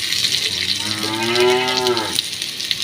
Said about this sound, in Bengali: বাইরে গরু ছাগলগুলো প্রচুর ডাকছে